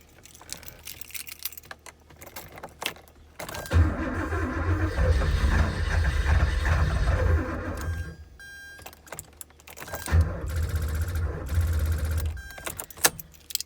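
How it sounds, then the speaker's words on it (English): A Porsche fails to start: a loud, near mechanical churning runs for about four seconds, stops, then repeats for roughly three more seconds, with small clicks and rattles before and between the attempts. "And here's what happened when I start the car."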